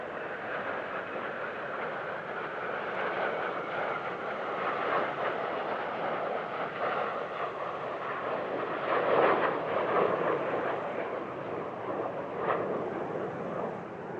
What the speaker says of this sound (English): another classic Patrouille de France manoeuvre that's been expanded from the traditional 4 aircraft to 6 this year